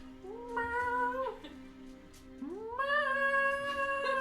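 A human voice imitates a cat's meow during a tabletop role-play game, cast as a thaumaturgy spell: two drawn-out, pitch-sliding mews, the second rising then holding louder, heard alone and close.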